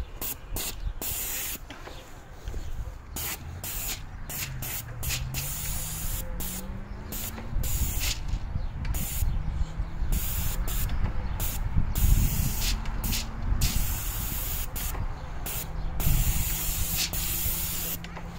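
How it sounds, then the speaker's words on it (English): Spray paint hissing steadily onto exterior mobile home skirting, applied heavily from angle to angle behind a shield, a continuous close hiss broken by brief pauses between passes. "And then just spray it up."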